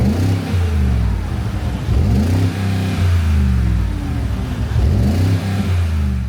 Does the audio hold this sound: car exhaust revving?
yes